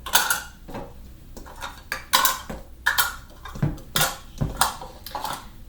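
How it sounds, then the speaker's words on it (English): Chocolate cookie dough being mixed in a bowl, giving repeated clinking and scraping knocks of a utensil against the bowl in a loose, irregular rhythm, close and fairly loud, with no talking. "now mix it in gently"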